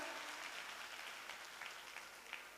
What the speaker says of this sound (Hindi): एक बार जोरदार ताली बजाएंगे सर जी